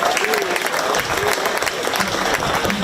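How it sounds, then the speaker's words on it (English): Sustained crowd applause for the kids at a 4-H swine show at the 2023 Shelby County Fair, a dense, steady clapping that fills the whole moment without letting up. "Let's give those kids a round of applause."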